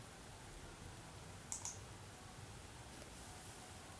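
Two quick computer mouse clicks close together, sharp and close up, over a faint steady room hiss, with one softer click a moment later.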